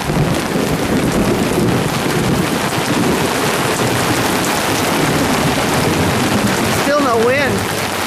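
A summer thunderstorm: steady heavy rain pours throughout with rumbling thunder and gusts of wind, loud and close, and a brief voice near the end.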